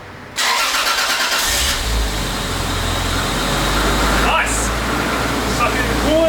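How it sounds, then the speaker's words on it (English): A Toyota JZX100 Chaser engine cranks and fires up close by, settling into a loud, steady idle with a fan-like whoosh, and a voice is heard briefly under the engine noise. "We're gonna turn the car on."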